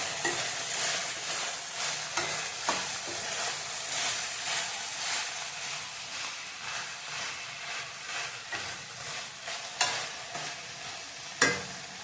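Bhogi vegetables, chakvat, tandali greens and spring onion greens, stirred and frying in hot oil for a Sankranti dish: a steady close sizzle with scraping stirs and a few sharp utensil knocks, no talking.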